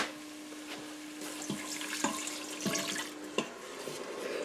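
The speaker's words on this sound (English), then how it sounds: "now we're putting in the broth" Broth is poured into an Instant Pot holding a whole chicken with potatoes and carrots: a soft, continuous liquid trickle and splash with a few small plops, fairly quiet and close, with no talking.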